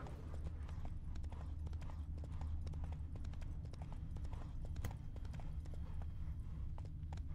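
Roach, the horse in The Witcher 3, gallops with rapid, steady clip-clop hoofbeats under a constant low rumble, fairly faint and continuous.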